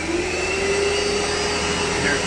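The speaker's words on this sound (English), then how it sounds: "Here's the dryer." Hand dryer inside a Johnny-On-The-Spot T-Box G1 portable toilet unit, blowing a steady, loud whooshing roar with a faint tonal whine, running unbroken throughout.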